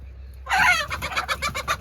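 Free-range desi country chickens cluck in a quick burst of several close, loud calls with little else around.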